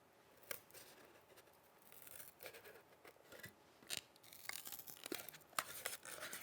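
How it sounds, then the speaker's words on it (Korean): Scissors cut through a foam board (Woodrock) airplane wing, giving quiet crisp snips and crunchy tearing strokes at an irregular pace, close up and alone. "가위를 이용하여 그 모양대로 잘라줍니다"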